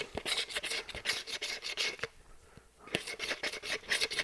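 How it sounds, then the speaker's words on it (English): Leftover resin bits are scraped out of a plastic cup in repeated rough, rasping strokes, close and fairly loud, with a brief pause midway before the scraping resumes. "I'm scraping out any extra resin bits from my cup"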